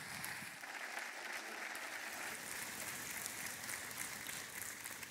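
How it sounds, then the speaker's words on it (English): A church congregation gives a round of applause for two pastors, a steady even patter of clapping that sounds fairly distant and soft, with no talk over it. "Why don't y'all give a round of applause for both of them?"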